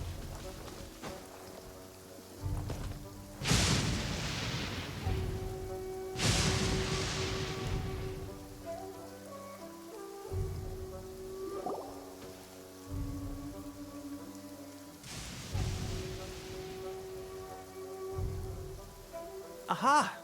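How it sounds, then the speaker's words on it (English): Steady downpour in the video game Genshin Impact, a soft hiss of falling rain under a gentle musical score, with a few louder whooshing gusts and a character talking over it. "Taking a stroll in the middle of a downpour certainly rouses the spirit."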